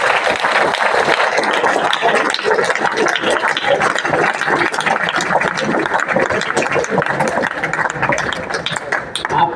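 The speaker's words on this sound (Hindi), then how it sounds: "इसलिए आप अपने लिए स्वयं ताली बजाएं" Children clap for themselves at a birthday gathering, a dense, steady burst of applause that fills the space throughout, with voices mixed in.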